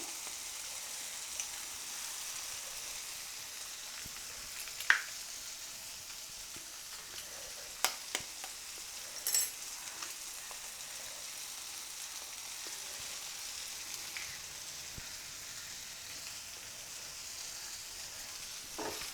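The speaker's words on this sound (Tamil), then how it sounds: "இப்போ தக்காளி வெங்காயம் ரெண்டுமே வதங்கிடுச்சு நம்ம எடுத்து வச்சுருக்கூடிய முட்டை இதில் உடச்சி ஊற்றிடலாம்" Tomato and onion fry softly in a pan just before egg is cracked in, giving a faint, steady sizzle with a few sharp clicks and stirring knocks scattered through it. No one talks.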